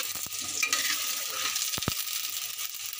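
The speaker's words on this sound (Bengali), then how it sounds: "আলুটা এই যে ভাজা চলছে।" Parboiled potatoes fry in a pan as part of a home-cooked egg and potato curry, a steady hissing sizzle with a few sharp knocks of a utensil against the pan.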